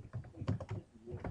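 A computer keyboard is typed on up close, with a quick burst of soft, uneven key clicks and thunks over about a second, with no voices.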